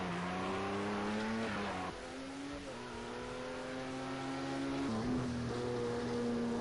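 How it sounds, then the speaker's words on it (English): Onboard an LMP1 hybrid race car at Monza during an endurance championship round, its engine holding a steady loud drone with pitch shifts around gear changes as it closes on a slower GTE car. "This is what it's like on board the LMP1H as we catch up to a GTE car."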